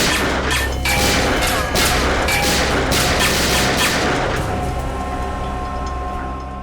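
Burst of gunfire and crashing impacts in a tense Hindi crime thriller scene, loud and dense, with sharp repeated cracks over the first four seconds before fading to a lower rumble.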